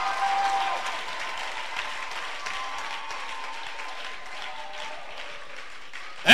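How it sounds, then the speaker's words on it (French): A church congregation at a worship service keeps up a soft, fairly distant wash of applause and cheering, fading gradually, with a faint sustained tone running beneath and a sudden loud burst at the very end. "J'aimerais entendre des acclamations des hommes qui ont la foi."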